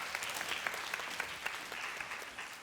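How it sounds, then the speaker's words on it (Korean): Church youth group congregation applauding, a steady wash of many hands clapping at close range with no voices over it. "다시 한번 박수 부탁합니다."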